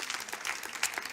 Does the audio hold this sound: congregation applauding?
yes